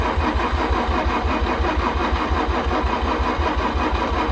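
A Honda Prelude's starter cranks the engine in a fast, steady rhythmic chug that repeats throughout, loud and close, with no catch into a running idle.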